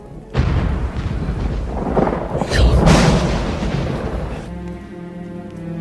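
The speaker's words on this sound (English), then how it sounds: "does lightning have to strike after every sentence?" Thunder from a lightning strike used as a film sound effect, a sudden loud crash that rolls and rumbles for several seconds before fading, with a brief voice near the end.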